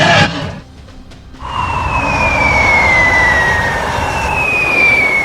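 After a sharp burst of noise, a video game siren-like wail slowly glides downward in pitch over a steady, loud rumble.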